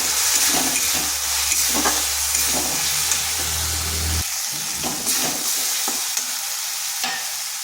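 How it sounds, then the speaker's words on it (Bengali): Spice masala frying with okra and tomato in a pan, a loud continuous sizzle and hiss with repeated stirring scrapes, the low bubbling dropping away partway through, no speech. "মশলাটা ভালো করে কষিয়ে নিচ্ছি।"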